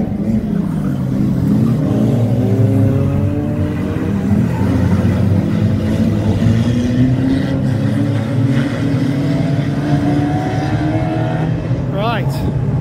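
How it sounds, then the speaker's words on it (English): Stock cars race and jostle for position at a Warton mid-winter meeting, several engines droning and rising in pitch as they pass, with an excited commentator talking throughout. "He's coming on the inside. Yes, Connor! He's done an overtake."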